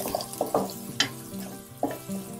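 Water is splashed into spices (turmeric, coriander powder and garam masala) in a hot cooking pan, giving several short sizzling bursts at uneven intervals over a low background hum.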